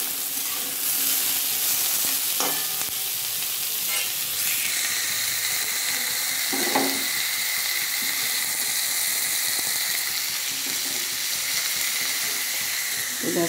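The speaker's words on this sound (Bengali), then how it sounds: "আর সবার শেষে ভাজবো আমি উচ্ছেটা। জাস্ট একটু নেড়ে তুলে নেব।" Bitter gourd fries in a pan for a Bengali shukto, giving a constant, close hiss of hot oil broken by a few soft scrapes and clacks as the pieces are stirred.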